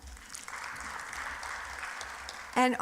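Audience applauding at a regional conference plenary session, a steady moderate patter of many hands that runs on at even strength, followed by a brief louder burst near the end.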